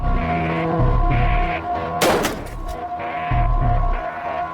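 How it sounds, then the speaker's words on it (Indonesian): A single sharp gunshot cracks out of a steady, dramatic music bed, a brief broadband burst with a short decaying tail before the music carries on, no voices. "Kemudian terdengarlah suara tembakan"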